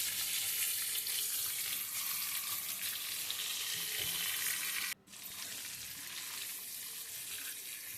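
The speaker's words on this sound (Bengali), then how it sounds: "পটলটা ভেজে নেব, খুব লাল করে ভাজবো।" Boiled pointed gourd (parwal) fries in hot oil with salt and turmeric, giving a steady close sizzle that runs throughout, with a brief drop near the middle before it resumes. No one speaks.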